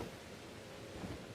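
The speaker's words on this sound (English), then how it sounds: "Dude, this thunderstorm." Steady broadband thunderstorm wash of rain and rumble in the video game Pokémon Legends: Arceus, an even, continuous roar with no distinct thunder crack, heard alone.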